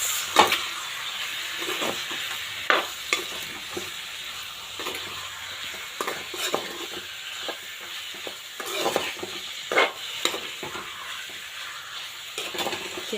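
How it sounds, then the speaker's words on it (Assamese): Marinated meat frying with onions and potatoes in a pan, a steady soft sizzle broken by repeated scraping stirs at irregular intervals, close and moderately loud. "এতিয়া এইখিনি ভাজি থাকিম"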